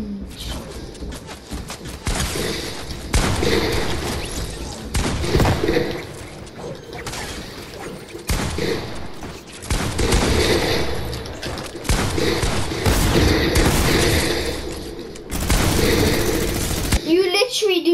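A minigun in the video game Fortnite fires in long rattling bursts with brief gaps between them, loud and harsh. A young player talks over the shooting.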